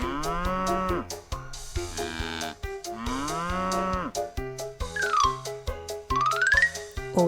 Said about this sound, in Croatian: To je bik.